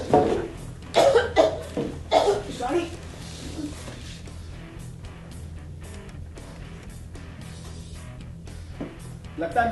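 Several harsh coughs burst out in the first few seconds, close by, followed by quieter background noise and a final cough.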